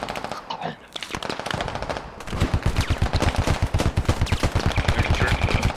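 Rapid automatic gunfire in a modded war video game battle, dense and loud, firing in steady bursts with a voice shouting briefly at the start before the shooting takes over.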